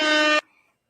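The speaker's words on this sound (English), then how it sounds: "I'll give him an air horn for that one." A single loud, harmonically rich horn blast holds steady for under half a second, then cuts off abruptly into near silence.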